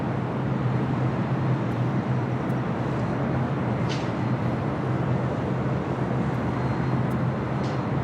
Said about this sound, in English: A lot of these corporate jets getting out of here.